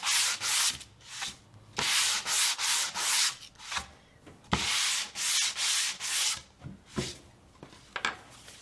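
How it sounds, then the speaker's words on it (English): Hand sanding of a wooden project with 120 and 220 grit sandpaper: close, loud rhythmic scratchy strokes in steady back-and-forth bursts with short pauses between them, no talking. "You want to make sure you sand with your lines."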